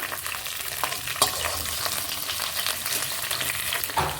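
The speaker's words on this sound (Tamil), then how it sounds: "வெங்காயம் கொஞ்சம் நல்லா வதங்கணும் அந்தளவுக்கு நல்லா வதக்கி விட்டுக்கோங்க" Onions sizzle steadily in a pan while cooking for a Tamil broken-egg gravy (udacha muttai kulambu), with occasional scrapes and knocks from stirring over the constant frying hiss, close by and with no voices.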